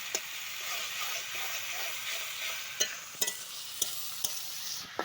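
Spices, ginger, onion and garlic paste with green chilies sizzle steadily in a pan, a continuous close frying hiss punctuated by several light scraping clicks from stirring.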